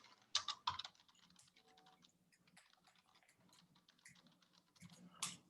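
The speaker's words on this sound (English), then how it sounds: "I could type in the text." Typing on a computer keyboard, a quiet, uneven patter of key clicks with a few louder taps near the start and end, close and without talk.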